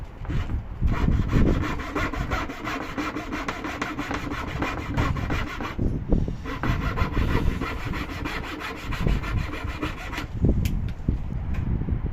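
Hand tools working wood while cutting a dovetail joint: steady scraping and rasping strokes of a chisel paring the wood, close and continuous, with a few sharper knocks and no talking.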